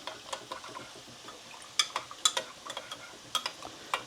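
A spoon stirs Greek rice in a pot, with light scraping and clinking taps arriving in irregular bursts, close and moderately quiet, without talking.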